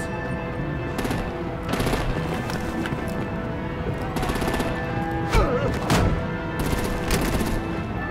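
Sustained bursts of automatic gunfire and scattered shots fill a battle scene in the Batman The Enemy Within video game, loud and continuous with rhythmic rattling volleys and heavier impacts.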